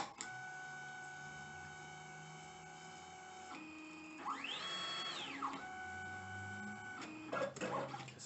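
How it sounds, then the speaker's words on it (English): A vinyl cutter reads the width of a Siser EasyWeed heat transfer vinyl sheet, giving a steady electronic whirring hum with a rising-and-falling motor sweep midway and a few clunks near the end, with no talking. "press the origin set button about 4 or 5 times so that my machine, my cutter, will read the width of this material"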